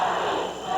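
A packed wrestling crowd at the Sportatorium roars and shouts in one loud, sustained burst of cheering, with no commentary over it.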